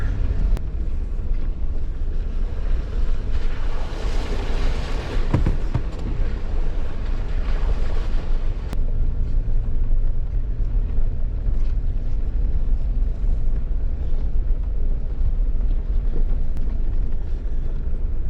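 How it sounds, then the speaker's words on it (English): A steady, loud rush of flowing water fills the whole stretch, with broadband roar and some wind buffeting on the microphone. "Love the sound of that running water."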